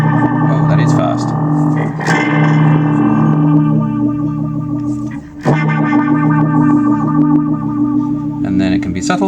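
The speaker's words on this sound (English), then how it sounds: "The traditional crybaby wah seems to sound really good." Electric guitar played through the traditional crybaby wah model of a Nux MFX10 multi-effects pedal, a continuous distorted, swept tone with quick wah movement, loud and steady for the whole stretch.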